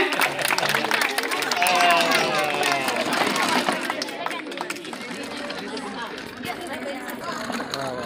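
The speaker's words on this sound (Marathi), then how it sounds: "जोरदार टाळ्या झाल्या पाहिजे" Crowd applause and clapping at a Tanha Pola children's festival event in Tapovan, Jayaprakash Nagar, Nagpur, with steady dense clapping mixed with chatter and crowd hubbub throughout, loud and close, slightly easing toward the end.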